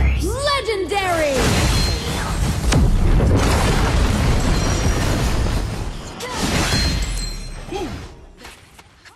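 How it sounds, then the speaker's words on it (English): Heavy booming crash of a tower collapsing in the mobile game Arena of Valor (RoV), with a shattering burst, rumbling debris and chiming effects, mixed with announcer callouts and game music during a pro league match. "A blue team tower has been destroyed!"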